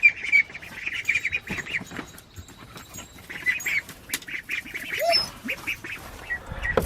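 Ducks quack and chatter in short, repeated calls close by, with soft splashing and rustling underneath.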